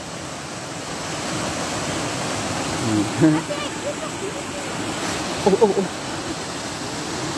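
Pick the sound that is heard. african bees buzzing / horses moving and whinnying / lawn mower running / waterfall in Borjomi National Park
waterfall in Borjomi National Park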